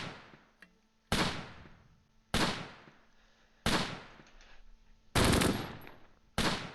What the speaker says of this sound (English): We're returning fire.